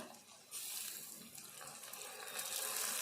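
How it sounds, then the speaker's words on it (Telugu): Water pours into a pot of curry in a steady, rushing stream that starts abruptly and continues without pause, with no voices. "వాటర్ వేసుకుందాము."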